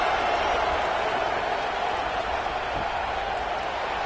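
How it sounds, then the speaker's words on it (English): A football stadium crowd keeps up a steady, distant roar of cheering and murmur after a touchdown score, with faint applause blended into the broad wash of noise. "this crowd is buzzing after that last score"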